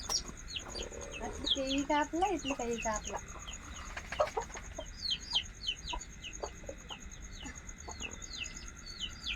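Chickens cluck and chatter close by in a village yard, with a run of rising calls early on, then scattered clucks and chirps. Other birds are faintly audible in the background.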